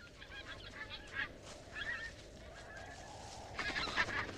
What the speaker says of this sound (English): The geese have come to their tundra nesting grounds, braving the spring snowfall from as far away as Mexico.